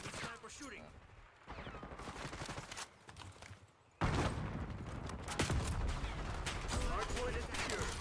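Sniper fire in Black Ops 6 sounds as sharp cracks and bursts scattered through busy game noise, with a sudden louder stretch halfway through and a faint voice in the mix.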